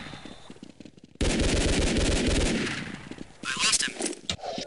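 Loud gunfire from Counter-Strike Online in a match against bots: a sustained rapid burst breaks out after a quieter opening, eases off, then a second burst follows near the end.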